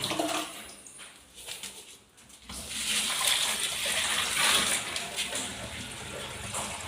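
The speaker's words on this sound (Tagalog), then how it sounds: "Buhusan natin ng tubig." Water gushes steadily into a sink, a broad rushing splash that starts after a brief quieter moment and continues loud and even to the end.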